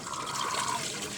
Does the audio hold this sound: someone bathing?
yes